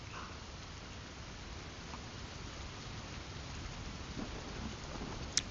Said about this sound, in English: I'm using rainymood.com and I just have a Chrome audio capture.